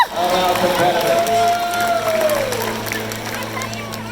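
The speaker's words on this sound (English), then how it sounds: "Let's get a big round of applause for all of our competitors." A live stunt-show audience at Universal Studios Orlando's Fear Factor Live applauds the competitors, a broad wash of crowd clapping and cheering heard under continuous announcer talk.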